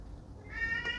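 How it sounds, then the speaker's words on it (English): A cat gives a loud meow starting midway, after a stretch of low room noise, close to the microphone and with no talk over it. "I am so sorry, that is my cat."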